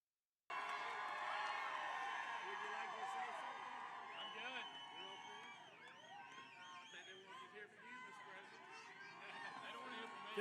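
A large indoor crowd at a political town hall in Georgia cheers and whoops loudly and continuously, many voices blending into a dense roar with shouts rising above it.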